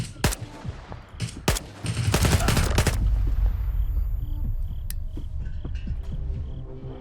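Gunfire from a weapon in Stalker 2: a few sharp single shots, then a rapid close burst of automatic fire, followed by a lingering low rumble with scattered faint clicks.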